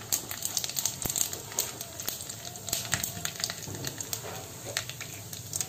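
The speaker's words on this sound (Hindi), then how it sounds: "तेल गर्म हो चुका है। अब इसमें 1/2 छोटा चम्मच काला सरसों और 1/2 छोटा चम्मच जीरा डालेंगे।" Black mustard seeds and cumin sizzle in hot oil, the tempering for a Marwadi sev tamatar curry. Continuous close frying hiss is broken by many sharp pops and crackles from the seeds, with no voices.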